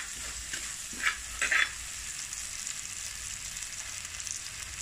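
Ingredients sautéing with a spoonful of salt in a pan for a Kerala mullet fish curry, a soft continuous sizzle with a few brief clinks and scrapes of stirring early on, fairly quiet and without voices.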